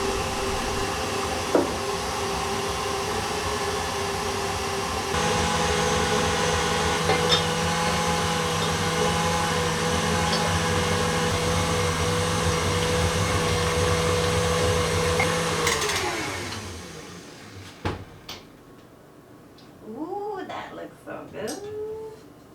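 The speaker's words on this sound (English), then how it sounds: "I am basically creaming my butter." An electric mixer creams butter for gingerbread dough, a loud steady motor whine with a rhythmic beater drone that runs for about fifteen seconds before winding down, after which a few short, faint meow-like cries follow.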